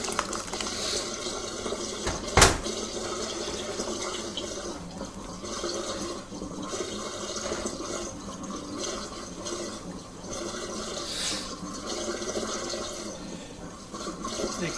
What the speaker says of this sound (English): Now you can see the water draining away down the drain there.